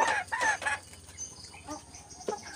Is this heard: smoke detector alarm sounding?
no